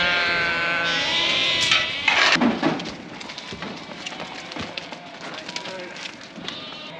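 Sheep bleat loudly nearby, a pen of ewes and rams calling over one another in overlapping cries, then settling into a busier, quieter murmur of movement and scattered bleats.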